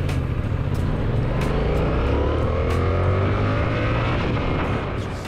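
A Yamaha MT-07 motorcycle engine drones steadily and loud throughout in city riding, with rising and falling revs layered over a constant low rumble.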